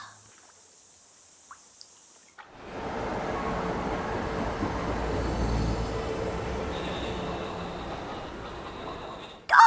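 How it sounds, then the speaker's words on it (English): A pointy-nosed train in Japan rushes past after a couple of quiet seconds, its loud, steady rumble and rattle filling the rest of the stretch before a sharp clatter at the very end. "Gosh, I've never seen a train like this before."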